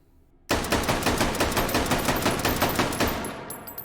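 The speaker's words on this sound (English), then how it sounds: "Moving on to the Model 81, we're going to do all 15 rounds out of the magazine on this one." Rapid sustained fire from a Model 81 carbine in the shooting game H3VR, a loud close string of about fifteen shots emptying the magazine in quick succession, with no talk over it.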